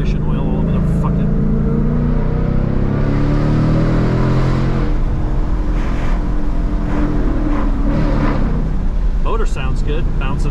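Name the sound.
Mustang GT engine echoing off rock walls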